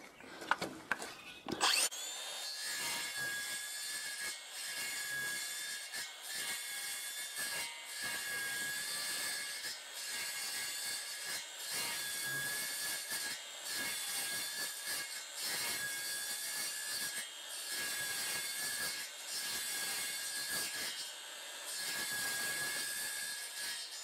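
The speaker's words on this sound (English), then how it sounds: "set my circular saw here to 15 mil. I'm just going to push a series of passes through, but not all the way." Circular saw set to a 15 mm depth makes a series of shallow passes through timber for a timber-framed garage, a loud, steady high whine running nearly continuously after a brief start-up.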